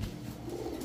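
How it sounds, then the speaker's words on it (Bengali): A young aluminium silver pigeon gives a brief, low, close-up coo, heard clearly on its own. "অ্যালুমিনিয়াম সিলভারের বাচ্চা কবুতর"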